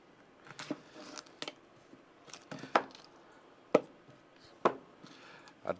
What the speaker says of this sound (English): I'm going to cut some onion up into this